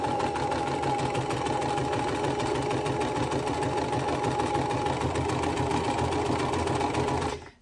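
A sewing machine hums steadily and close up, stitching a quilt block seam for half square triangles, running unbroken for several seconds before stopping abruptly at the end.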